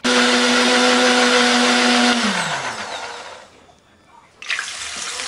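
A blender grinds ginger, shallot, garlic and pepper with added water into a spice paste, a loud, steady whirring for about two seconds before the motor winds down and fades, followed by a brief clatter.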